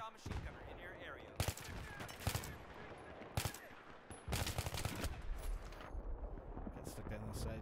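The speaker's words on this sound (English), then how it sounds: "machine gunner in your area." Machine gun fire in the Battlefield 3 video game, sharp loud bursts and single cracks striking in irregular clusters over a busy battlefield din, with a voice talking between shots.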